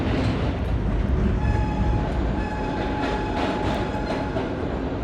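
An R32 subway car runs on the F line, giving a loud, steady rumble of wheels on track with faint clicking and some high squealing tones.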